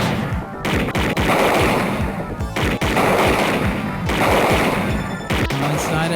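Rapid gunfire in the video game Snatcher, dense bursts of shots repeating in quick succession, loud and close, broken by brief gaps.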